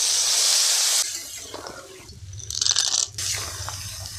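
Small shrimp dropped into a pan with potatoes, salt, chilli and turmeric, giving a steady hiss of frying that breaks into bursts of sizzling and spattering, fairly close with no talk.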